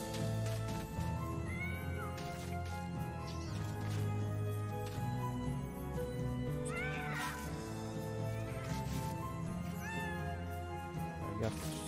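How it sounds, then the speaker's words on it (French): Cats meow repeatedly in the video game MediEvil, several short wavering cries spread over a dense, constant bed of game music and ambience. "Regarde tous ces chats là."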